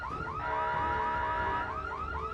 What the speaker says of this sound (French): Il y a une l'alarme qui continue et elle est assourdissante